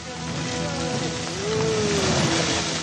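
Steady, dense heavy monsoon rain hiss in North Bengal fills the scene, broad and continuous, with a faint low tonal hum drifting underneath.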